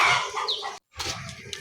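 Chickens cluck on a small-scale poultry farm in a brief, busy burst of fowl calls that stops for a moment and then resumes just as lively.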